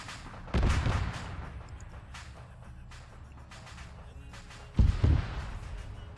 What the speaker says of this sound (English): So that was a mortar shell.